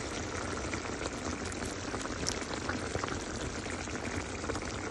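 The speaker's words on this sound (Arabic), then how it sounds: "هلا بنحط عليهم مية البندورة" Tomato water poured over chicken pieces for a chicken curry, a continuous liquid splashing and hissing that runs steadily for the whole stretch, fairly close, with no talk.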